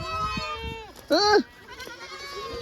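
A goat bleats once, loud and close, with a wavering nasal cry, amid quieter background voices and outdoor noise.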